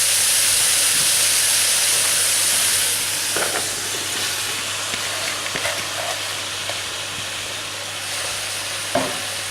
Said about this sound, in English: I've heated the oil first, and I'm going to add in the onions and break this down to get rid of all the clumps.